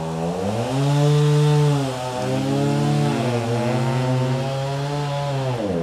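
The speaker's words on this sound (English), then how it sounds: "The chainsaw." A chainsaw cutting into a century-old tree snarls loudly and steadily up close, its engine pitch rising and dipping as the bar bites into the wood, with no talking.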